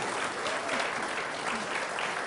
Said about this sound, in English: So nice round of applause for Susan Busenbark.